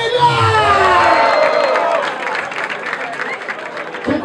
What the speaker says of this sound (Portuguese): Palmas pra batalha, família!